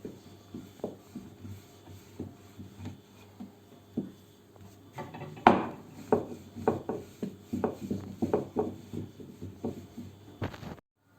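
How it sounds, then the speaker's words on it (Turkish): Dough for Turkish minced-meat pide being rolled out with a wooden rolling pin, soft knocks at first, then a run of repeated rubbing, thumping rolls close up, ending abruptly, no voices. "şimdi bir merdane yardımıyla hamurumuzu açıyoruz"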